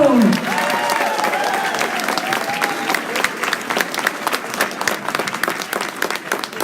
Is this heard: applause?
yes